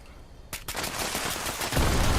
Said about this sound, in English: Still getting hit by some turret right there.